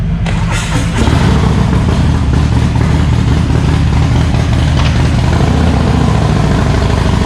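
Harley-Davidson Street Glide with a Stage 3 build and upgraded cam idling, a loud, steady, low throbbing rumble close by with a slight lope throughout.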